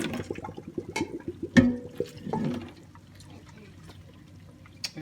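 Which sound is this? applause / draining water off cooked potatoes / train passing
draining water off cooked potatoes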